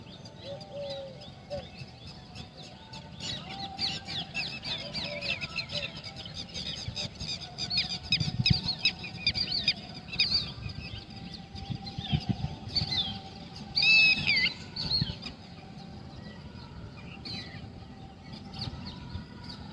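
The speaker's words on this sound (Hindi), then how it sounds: "कुछ क्षण पक्षियों की आवाज़ों को सुने और इस वातावरण का आनंद लें।" Birds calling outdoors at a morning yoga and meditation session in a Jaipur enclave, steady chirps and squeaky twitters at moderate distance over a soft ambient hush, with no voices.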